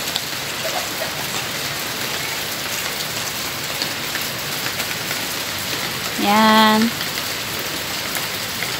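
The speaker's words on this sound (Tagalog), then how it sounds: "Yung mga patak ng ulan." Light rain falls on garden plants outdoors as a steady, soft hiss of drops; a voice speaks briefly near the end.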